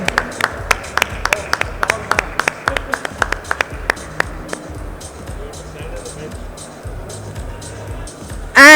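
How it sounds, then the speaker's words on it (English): Sharp, distinct handclaps ring out at an elevator industry conference session, a sparse steady clapping over a murmuring room that fades into background chatter and movement toward the end. "a round loud applause for Mr. Arun Narang, who has beautifully moderated this session"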